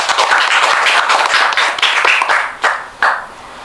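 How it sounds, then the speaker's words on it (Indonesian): A podcast studio audience applauds two guest speakers who won a competition, a dense, loud burst of clapping that thins out into a few scattered claps near the end, with no voices. "Beri tepuk tangan yang meriah."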